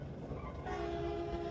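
Train running on rails, heard from aboard a passenger train on a nostalgic trip to Samcheok; steady rumble throughout, with a sustained horn-like tone entering midway, no talk.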